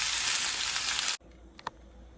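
Chicken penne pasta sizzles loudly in a pan as it is stirred, a bright steady hiss that cuts off abruptly, leaving faint quiet clinks afterward.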